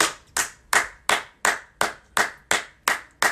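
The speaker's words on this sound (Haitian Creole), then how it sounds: "Bat bravo pour la jeunesse." Hands clap for the youth in a single, steady rhythm, about ten sharp, evenly spaced claps close to the microphone with nothing else heard.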